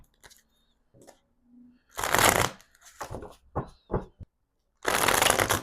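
Tarot cards being shuffled by hand: several brisk riffling bursts, two of them long and loud, separated by lighter taps and card handling, close up with no talking.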